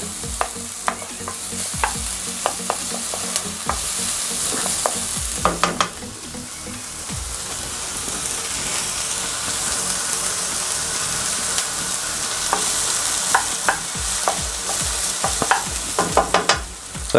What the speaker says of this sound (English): So we're going to let them continue to fry off, turn the heat down just a little.